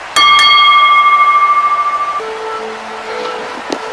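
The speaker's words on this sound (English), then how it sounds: "Ring the bell!" A wrestling ring bell clangs at the end of a championship match at an IMPACT Wrestling event: one loud metallic strike rings out with a long, slowly decaying tone, then fainter arena noise follows.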